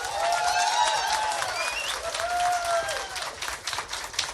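Audience at a public hearing on a constitutional amendment for community health agents' special retirement applauds Geraldo Rezende: a dense, steady wash of clapping with whistle-like tones and some crowd voices mixed in throughout.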